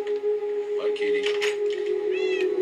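A cat meows in a Minecraft game on Xbox One, with a few short meows over a steady tonal background hum and game sounds.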